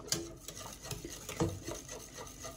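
Eggs are stirred by hand into a semolina cake batter, giving close, wet scraping and sloshing strokes at an uneven, brisk rhythm with a few utensil knocks.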